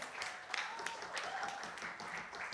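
Guests at a chamber of commerce tenth-anniversary celebration applaud in a steady, moderately faint patter of many hands clapping, with no speech over it.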